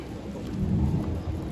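Thunder rumbles low through steady rain, a continuous broadband wash with a swelling roll in the middle, fairly close and with no talking.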